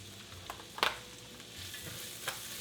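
Onions cooking with a whole sprig of thyme in a pan for a Marsala sauce give a faint, low sizzle, broken by a couple of brief clinks and scrapes from stirring.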